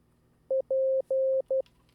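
Morse code CW letter P sent as a clean steady tone: short, long, long, short, four crisp keyed beeps in one quick sequence.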